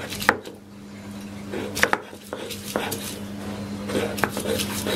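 Roasted green chillies, onion and garlic are ground by hand, giving irregular knocks and gritty scraping over a low background hum, with no talking.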